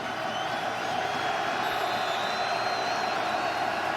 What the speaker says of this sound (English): Bobcat fans have packed this place. Overflow crowd.